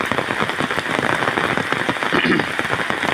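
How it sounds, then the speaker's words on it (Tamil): Heavy monsoon rain driven by strong wind in Nagapattinam district, a loud, dense, continuous hiss of downpour hammering surfaces, steady throughout with no pauses or talk. "பயங்கர காற்று மழையோடு இருக்குது"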